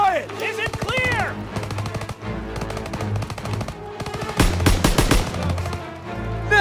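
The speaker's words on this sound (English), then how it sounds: "You gotta suppress the machine gun!" Machine gun fire rattles through a Call of Duty: WWII battle in long, loud bursts, mixed with scattered single gunshots, and grows heavier toward the end.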